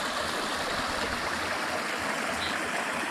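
Chinnacup Creek water flowing steadily, a constant broad rushing and gurgling wash that stays close and even throughout with no voices.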